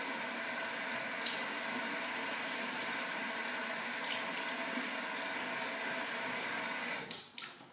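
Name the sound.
rinsing a safety razor under warm running water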